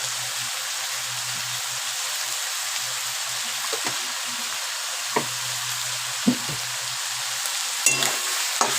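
Turmeric and Kashmiri chili powder sizzle in hot oil, a steady soft frying hiss with a few scattered knocks and clicks of a utensil against the pan, no voices.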